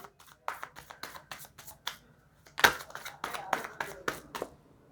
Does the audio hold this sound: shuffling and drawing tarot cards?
yes